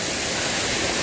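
A dense, steady roar of rushing water from a waterfall on Carnedd Llywelyn fills the short moment, loud and close, with no voices.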